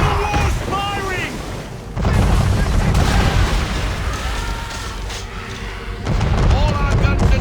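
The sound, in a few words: enemy man-of-war cannon fire in video game Assassin's Creed III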